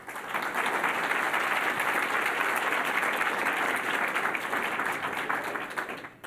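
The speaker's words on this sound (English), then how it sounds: "We wondered if the audience would clap after each name, and sure enough" Steady, sustained applause from a large audience at a civic club gathering, filling the room evenly for several seconds before tapering off at the end.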